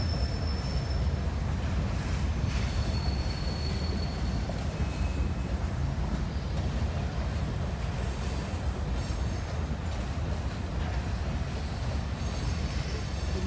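CSX freight train with hopper cars, including an old Seaboard hopper, rolling steadily past at close range, a continuous rumbling roar of wheels on rail with faint high squeals, no talk over it.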